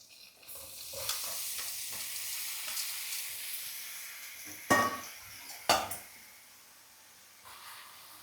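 Garlic and mushrooms fry in a generous amount of butter, giving a steady soft sizzle with stirring and two sharp clatters of a utensil against the pan midway, fairly close and moderately quiet.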